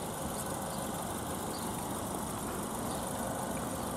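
A Ford Fiesta ST with 56,000 miles sits idling, its engine giving a steady, continuous low rumble with a dense broadband hiss that holds level from start to finish, with no talk over it.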